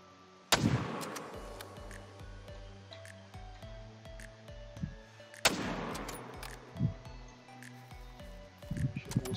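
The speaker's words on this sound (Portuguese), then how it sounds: "dei dois tiros porque já não ia dar integridade" Two sharp, loud rifle shots at a lion in the video game theHunter: Call of the Wild, several seconds apart, each followed by a ringing tail, over a low hum and scattered faint clicks.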